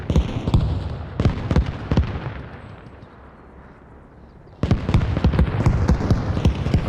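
In the Arma Reforger video game, rockets are fired in a series of sharp, heavy bursts that rumble and echo, with a quieter lull in the middle before more rapid blasts resume.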